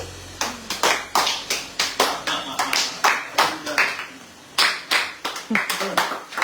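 A group of people clap hands at a birthday celebration, a dense, loud run of rapid clapping that pauses briefly and resumes, with voices mixed in.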